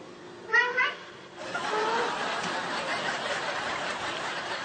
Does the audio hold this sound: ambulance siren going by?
no